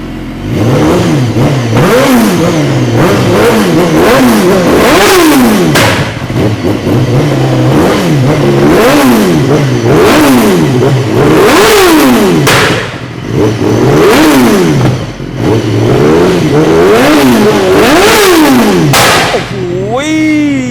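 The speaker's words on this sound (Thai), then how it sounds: "วอร์มเครื่องแป๊บหนึ่ง ใครอยากเห็นท่อออกไฟออกตูดนี่ต้องเธอคันนี้เลย" A BMW HP4 sport motorcycle engine revs hard again and again, loud and close, pitch sweeping up and down in repeated bursts with sharp pops and flames from the exhaust between throttle blips.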